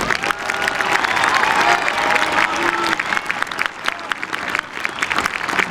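A large graduation crowd at a high school ceremony applauds the top graduating seniors, a loud sustained wash of clapping with scattered cheers that holds steady throughout.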